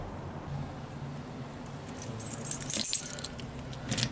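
Keys jangle as they are picked up for a narrowboat's engine, a light metallic rattle building into a brief louder burst near the end of the moment, heard close over steady low background noise.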